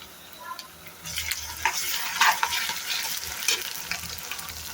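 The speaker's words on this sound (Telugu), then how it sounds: "అల్లం పేస్ట్ వేసినాక ఒకసారి కలుపుకుందాం." Ginger paste being stirred into a liver curry in a pan, a steady close sizzle with scraping spoon strokes that swell louder after the first second and continue without talk.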